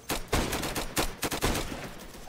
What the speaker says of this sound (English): I got a headshot from a no scope though.